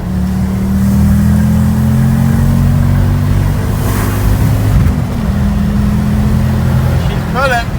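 A Ford Focus ST with newly fitted driveshafts pulls hard under acceleration, its engine note climbing steadily and loud from inside the cabin before easing off; people talk over it.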